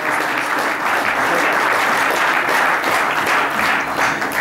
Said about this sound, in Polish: Brawa, brawa, jeszcze mocniejsze brawa, proszę państwa.